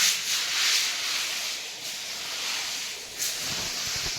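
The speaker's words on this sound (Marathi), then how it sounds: "हा पाईप लावलाय पाण्याने." A water hose sprays steadily while a room in a new house in Igatpuri is being cleaned, giving a continuous close, even hiss that stays at a level wash throughout with no talk.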